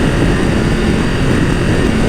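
A Triumph Tiger 1200 GT Explorer three-cylinder engine is held at high revs, giving a loud, steady, buzzing drone that stays constant throughout with no breaks.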